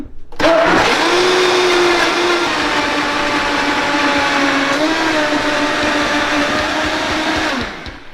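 A blender running on high speed, blending a blueberry smoothie in an RV kitchen, a loud steady whirring roar that starts abruptly, holds for about seven seconds with a slight pitch dip midway, then winds down, with no talking.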